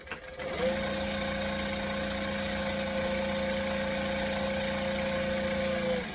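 A sewing machine stitches fabric for a sea-themed sewing project, running as one steady, even motor hum for about five seconds before stopping, close and alone.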